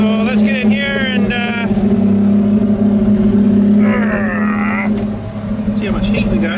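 A snow plow engine runs steadily at a fast idle of about 2,000 RPM, a constant droning hum that holds through the whole stretch while someone talks over it in two short bursts.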